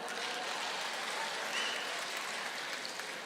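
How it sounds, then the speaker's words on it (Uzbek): Audience clapping at a live comedy concert, a steady dense wash of applause from a crowd that holds evenly for several seconds without any voices on top. "Bitta qarsak chalib beringlar."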